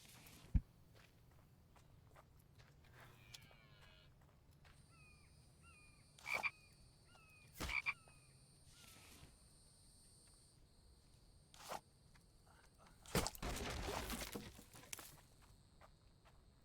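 Frogs croaking in the survival video game The Infected, several short rhythmic croak series, with intermittent footsteps and rustling thumps in a quiet ambient scene.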